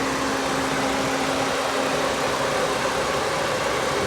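A rebuilt Chrysler 2.7 liter dual overhead cam V6 idles steadily under the open hood at night, a constant close engine hum with a faint whine and no talk.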